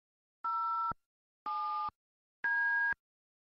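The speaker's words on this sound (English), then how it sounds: "Dial your extension number and" Three evenly spaced dual-tone beeps from a phone keypad entering digits on an Avaya IP Office voicemail system, each about half a second long, clean and loud with silence between them.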